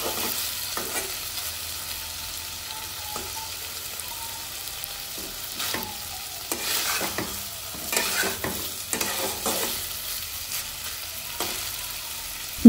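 Potatoes and spices fry in a pan while a spoon stirs them, with a soft continuous sizzle broken by irregular scraping strokes against the pan, close and moderately quiet.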